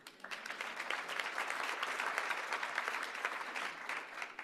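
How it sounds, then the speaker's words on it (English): A summit audience applauds steadily and fairly loudly in a large hall, a dense wash of many hands clapping at once that holds through the whole stretch without any talking. "That warrants a round of applause,"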